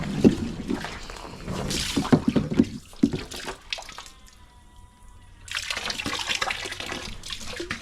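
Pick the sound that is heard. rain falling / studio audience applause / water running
water running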